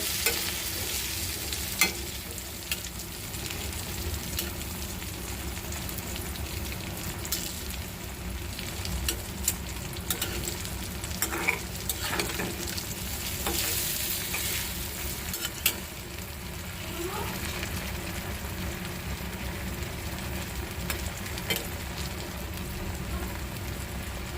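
Eggplant slices frying in a hot pan give a steady, close, continuous sizzle with occasional light clinks of stirring, and no voices.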